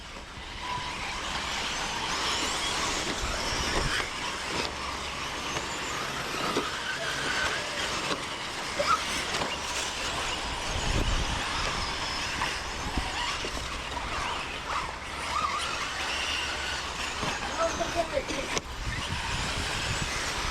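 Electric RC truggies race around a dirt track, a steady whirring drone of motors carrying on throughout with small surges as the trucks pass, under faint commentary.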